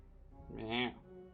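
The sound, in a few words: pet cat meowing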